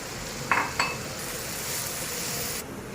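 Masala with red chilli and cocoa powder fries in a pan for hara pulao, giving a steady close sizzle with a couple of sharp spoon clinks against the pan near the start.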